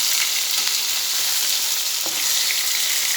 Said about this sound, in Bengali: নুন হলুদ দিয়ে মাখানো দিয়ে এবার মাছগুলো ভাজতে বসিয়েছি।